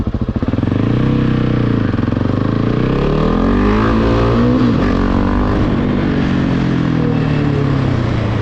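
A Husqvarna 701 supermoto fuel-injected motorcycle engine revs hard and close, its pitch climbing and falling through several sustained throttle sweeps with no talk over it.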